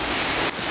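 Steady heavy rain pouring onto a surface outdoors near a farm shelter, a dense hiss of drops with a brief dip near the end, no voices.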